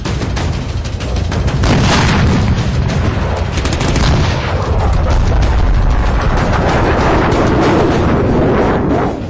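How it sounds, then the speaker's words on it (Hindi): Artillery and gunfire across the Line of Control near the Machil sector of Kashmir make a dense, continuous barrage of rapid shots and deep booms, loud and sustained throughout with no talking. "एलओसी पर सरहद पार से हो रही गोलीबारी के जवाब में हमारे जवानों ने भी अपनी तोपों और बंदूकों का मुंह खोल दिया है"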